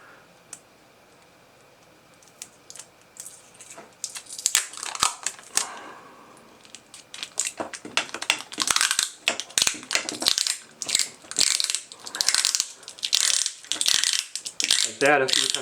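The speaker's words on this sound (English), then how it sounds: "And then repeat the tape wrap as tight as you can." Tape pulled and wrapped tightly around the capped end of a foam boffer, heard as a close, crackling, ratcheting run of repeated tearing-and-crinkling bursts that grow busier and louder after a quiet start.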